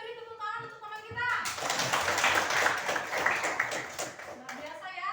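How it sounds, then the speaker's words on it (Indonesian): A classroom of students claps for a classmate in a dense, lively burst of applause lasting about three seconds, with a teacher's voice speaking just before and after. "beri tepuk tangan untuk teman kita"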